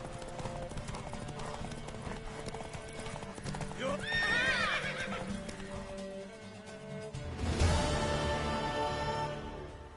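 Hooves clip-clop at a gallop, with a mare whinnying loudly midway and again near the end, over a busy, steady backdrop, in the video game The Witcher 3.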